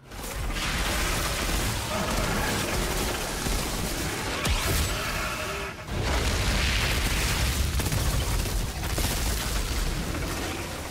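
Dense gunfire and explosions from the video game Outriders on PS5 form a loud, continuous barrage of blasts and bursts with a brief dip in the middle, and no clear talking.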